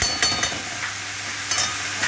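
Red amaranth greens frying with poppy seeds are stirred in a pan, giving a close, steady sizzle broken by a few scraping stir strokes, with no talking.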